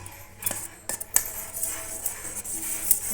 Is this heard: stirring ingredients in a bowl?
yes